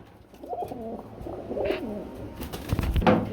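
Pigeons coo in low, throaty rolling calls, several overlapping phrases close by over a few seconds, with soft rustling and faint background noise.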